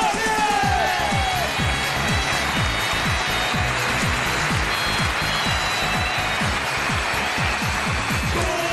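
Studio audience on a Chinese dating show applauds a young contestant's entrance, a dense, steady wash of clapping and crowd noise over a quick rhythmic beat, with voices mixed in.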